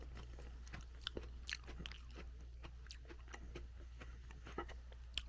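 Close, quiet crunching and chewing of a chocolate-covered pretzel Oreo cookie, with irregular crisp bites and mouth sounds against a low background hum.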